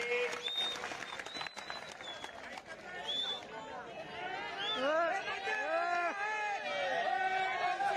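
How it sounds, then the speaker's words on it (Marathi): Crowd at an outdoor kusti wrestling ground in Rui clapping and cheering, with shouts and whistles rising over busy chatter and a loud voice calling out. "टाळ्या वाजवा जरा टाळ्या टाळ्या करा जरा सर्वांनी"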